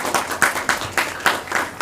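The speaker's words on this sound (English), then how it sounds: "So a round of applause for our very own." Audience applause at a community college debate competition, a steady patter of hand claps with regular louder bursts, fairly close and filling the short stretch without speech.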